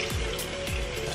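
Water poured into a measuring container while measuring out photographic developer chemicals, a steady close trickle with faint splashing and no talk.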